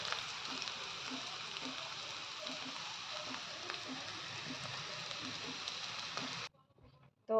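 Continuous sizzling of greens frying in a wok, a soft steady crackle and hiss that cuts off abruptly near the end.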